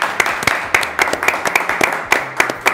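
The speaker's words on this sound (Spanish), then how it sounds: "Un aplauso para él, por favor." An audience applauds during a Spanish-language cultural broadcast, heard as a short, steady patter of hand claps with regular sharp individual claps standing out, moderately close and with no talk over it.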